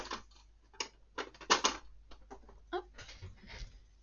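Scissors snip through paper while trimming the excess along the fold of a handmade pop-up card, giving a series of short, crisp cuts in irregular bursts, close by with no talking.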